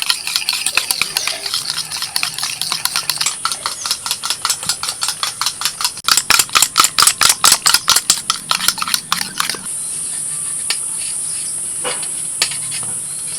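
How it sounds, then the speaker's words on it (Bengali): Eggs are beaten with salt, pepper and cornflour, producing fast, steady rhythmic tapping strokes close by, pausing near the end where a brief quieter stretch follows. "ডিমের মধ্যে দিয়ে দিচ্ছি লবণ গোলমরিচ গুঁড়ো আর দিয়ে দিচ্ছি কর্নফ্লোর ভালো করে মিশিয়ে নেব"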